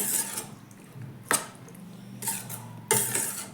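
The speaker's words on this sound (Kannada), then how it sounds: "ಉಳ್ಳಾಗಡ್ಡಿ ಹಾಕಿನ್ರಿ ಚೆನ್ನಾಗಿ ಕಲಸೋಣ" Onions being mixed in a dish, with a metal spoon clinking and scraping against the pot in a few sharp knocks and softer rubbing strokes between them, close and with no voices.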